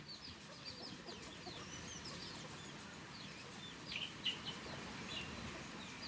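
Free-range chickens cluck faintly and at a distance in an outdoor yard, giving soft, scattered calls over quiet ambient noise, with no talking.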